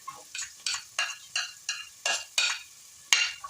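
Onions and celery sauteing in a pan for stew gravy, heard as a series of about nine short bursts of scraping, stirring and sizzle at a steady rhythm, close and clear with no talking.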